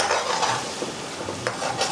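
Pre-cooked lamb sizzles on a hot tawa while being stirred, a steady frying hiss broken by scraping and clinking strokes of a utensil, close and moderately loud.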